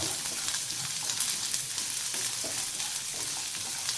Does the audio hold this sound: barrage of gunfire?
no